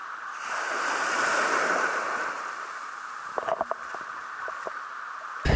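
Wind sweeps across Praia da Ferradura in Búzios with surf washing in, a broad rushing swell that builds and then eases, followed by faint clicks and microphone buffeting.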